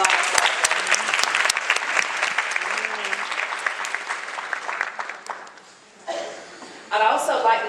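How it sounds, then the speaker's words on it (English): Audience applause at the Miss Indian North Carolina pageant, for the committee: dense clapping for about five seconds that thins and fades, then a brief second burst near the end. "a big round of applause for the committee and everybody who's had a hand in this pageant"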